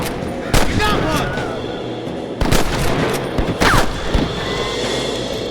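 Rapid gunfire from Red Dead Redemption, with several sharp, loud shots and bursts scattered over a few seconds against a busy game soundscape, while voices talk in between.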